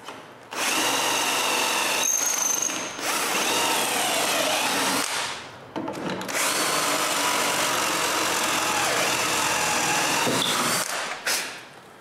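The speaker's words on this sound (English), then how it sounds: "I just need to mark where I want them and drill them." Close, loud power drill runs in long sustained bursts with brief pauses, the motor straining as it bores dowel holes into wood.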